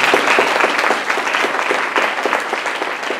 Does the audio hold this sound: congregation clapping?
yes